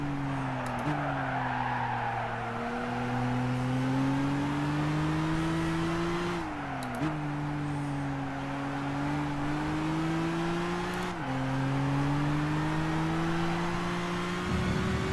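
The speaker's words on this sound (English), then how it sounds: "So we had a bit of oversteer there" A race car in the Gran Turismo video game drives under a steady engine drone that climbs in pitch, drops back at each gear change and repeats, with some tire noise during oversteer.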